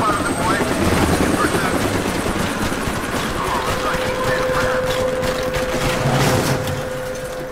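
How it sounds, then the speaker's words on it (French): A helicopter in the video game Deadlight thrums loudly with a steady rotor drone and a sustained engine tone, joined by bursts of gunfire-like cracks, and stays prominent the whole time. "il y a un hélicoptère"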